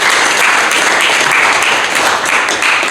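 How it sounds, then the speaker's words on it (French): Loud, close audience applause at an official public gathering, a dense, even roar of clapping throughout. "Et on voulait qu'on applaudisse."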